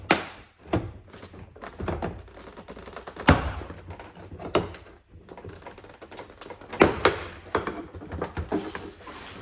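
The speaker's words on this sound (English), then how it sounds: "find somewhere that there's a trim clip. You can look down and you will see them, and pull the door card out." Plastic trim clips popping loose as a rear door card is pried off a VW Touareg 7P, heard as a series of close, sharp snaps and thunks with rustling and handling noise between them.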